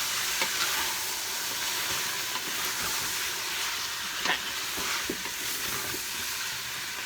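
Spices being stirred into butter chicken in a pan, a steady sizzling, scraping wash with a few sharper clinks of the spoon against the pan, continuous and fairly close.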